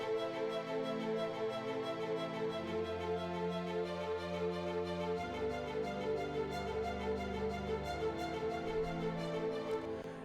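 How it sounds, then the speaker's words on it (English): Layered staccato string parts in a mix, washed in a large hall reverb, playing continuously with shifting sustained harmonies at a steady, moderate level throughout. "I did the same thing here on the staccato strings."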